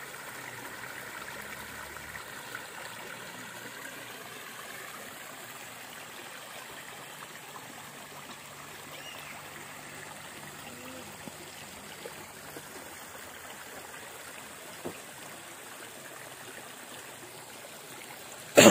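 A clear river stream flowing steadily, a soft continuous rushing and trickling wash that holds at moderate level with no talk.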